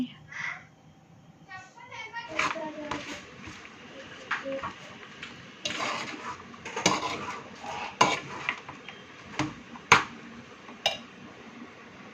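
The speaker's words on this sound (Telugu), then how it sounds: "రైస్ వేసిన తర్వాత పోపు అంతా రైస్కి పట్టే విధంగా మంచిగా కలుపుకోవాలి" Cooked rice being mixed with tempering seasoning in a pan, irregular scraping and metallic clinks of a spoon against the pan under intermittent talk, including a voice.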